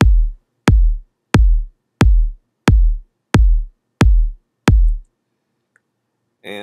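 Soloed kick drum made from a dubstep kick layered with an 808: eight deep, punchy hits in an even, steady rhythm, close and dry, followed by near silence.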